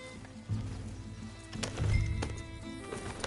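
A horse in the video game Red Dead Redemption 2, with soft hoofbeats and clip-clop thuds under low rumble and faint game ambience, moderately quiet.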